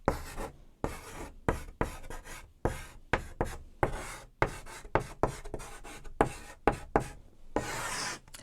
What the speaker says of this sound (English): let's write here